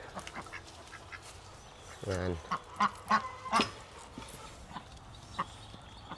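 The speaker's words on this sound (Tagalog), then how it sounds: "pasukin natin tong mga pato natin" Several loud quacks from farm ducks come in a short cluster close by, with a person talking at times around them.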